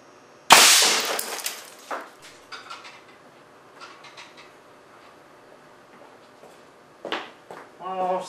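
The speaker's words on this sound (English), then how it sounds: "This time I've loaded two slugs, one behind the other, into the air cannon barrel." Air cannon firing two slugs loaded one behind the other at a small radio: a loud sharp blast near the start, followed by scattered clattering impacts and debris, then a few quieter knocks and rattles toward the end.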